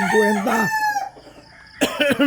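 A local rooster crows loudly and close by at a morning farmyard, giving one long strained crow with rising and falling pitch, then starting another after a short quiet pause.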